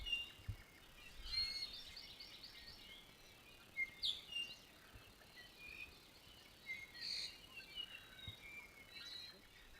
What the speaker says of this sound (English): We're hearing apapane, iiwi, omao, amakihi.